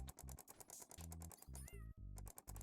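A short synthetic meow, heard each time something spawns, rises out of a busy, dense soundtrack of an incremental button-clicking chest-opening game, full of rapid clicking, electronic beats and effects.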